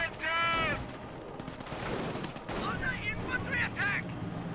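An artillery barrage in the video game Company of Heroes sends dull, rumbling explosions and crackling blasts through a noisy battlefield mix, with voices talking over the fire.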